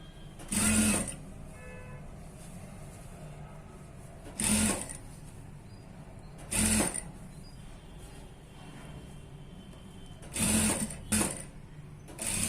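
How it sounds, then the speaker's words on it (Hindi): A sewing machine stitches over an existing seam in a one-piece garment, running in several short separate bursts of rapid whirring with quieter pauses of fabric handling between them. "मैं इसे इसके ऊपर रखूंगा और यहाँ से फिर से एक स्टिच लगाऊंगा।"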